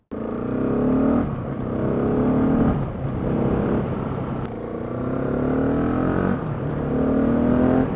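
A 2016 Husqvarna 701 Supermoto single-cylinder motorcycle is ridden hard, its engine loud and close, revving up and easing off in repeated surges with gear changes across several seconds.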